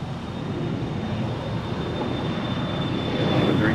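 An Airbus A321 rolls off the runway at Los Angeles International Airport, a steady broadband jet roar with a thin high whine, fairly loud and swelling slightly toward the end, with no voices.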